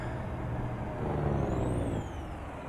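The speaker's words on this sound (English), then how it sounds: "This truck does sound beautiful." A truck engine in American Truck Simulator rumbles steadily at a moderate distance, with a faint high whistle rising and falling briefly above the drone.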